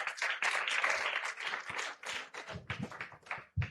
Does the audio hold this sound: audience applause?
yes